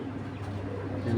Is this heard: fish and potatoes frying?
no